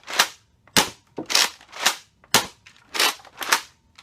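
Nerf Mega Rotofury blaster slam-firing with the trigger held, seven sharp, loud pops from its large plunger tube in quick irregular succession, close by with no talking.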